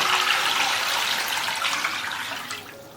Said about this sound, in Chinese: 换一个砂锅，加入适量清水